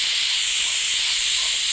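A pressure cooker whistles while cooking mutton kali mirch curry, a loud, steady high-pitched steam hiss that runs unbroken from start to finish.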